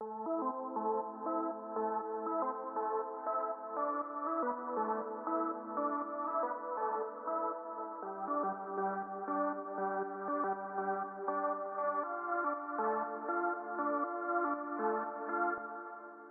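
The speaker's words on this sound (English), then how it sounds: "there's another lead which is like a little wider" A wider second synth lead in an Afro House arrangement built in Logic Pro, sustained chordal tones held in a smooth continuous pad-like line with a shift in pitch midway, alone without speech.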